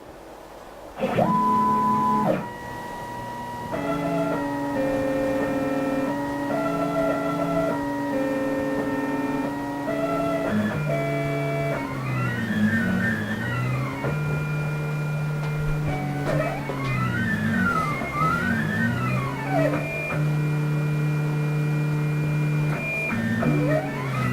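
A brand-new X2 CNC mini mill running a small test program at half speed, with stepper motors whining in steady tones that jump between pitches, then sweep up and down in repeated arcs over a constant hum.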